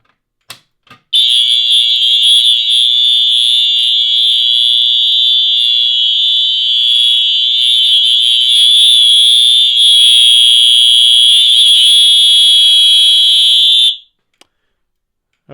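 A loud, continuous high-pitched fire alarm tone sounds for about thirteen seconds without pause, then cuts off abruptly.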